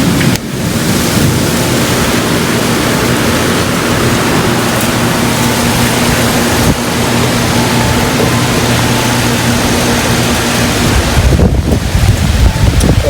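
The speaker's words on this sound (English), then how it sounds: "Raining." Heavy rain falling outside in gusty wind: a dense, constant roaring wash of water with rumbling buffets, loud and close, continuing unbroken throughout.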